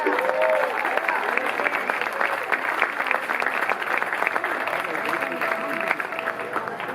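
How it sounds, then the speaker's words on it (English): Sustained applause from a crowd at a bluegrass concert at a Tileworks venue, dense and even clapping filling the whole stretch, with a few scattered voices and whoops mixed in. "Give him a round of applause."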